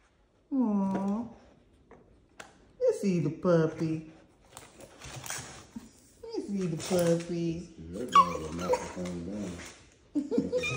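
A French bulldog puppy whimpers and yips in high, wavering cries that come in several bursts, close by, with people talking in between and over the whines.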